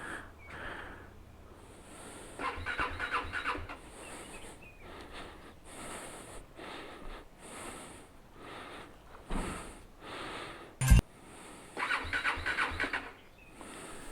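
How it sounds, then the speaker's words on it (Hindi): A motorcycle with a dead battery in -5 degree cold fails to start, with several weak, sputtering cranking attempts separated by pauses and one sharp loud burst near the end. "मैंने सब तरह से बाइक को चालू करने की कोशिश कर ली, पर बाइक स्टार्ट नहीं हुई"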